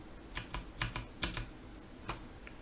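Computer keyboard keys pressed in short bursts while working in ZBrush, a handful of crisp, close clicks spaced irregularly over a quiet background.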